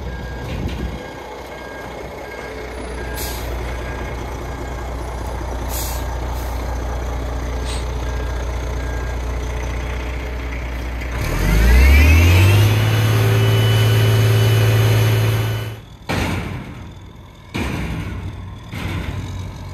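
A gravel delivery truck idles and then moves, its engine surging, air brakes hissing, and a steady pattern of reversing beeps sounding before the load dumps with rumbling bursts, fairly close, with no talking.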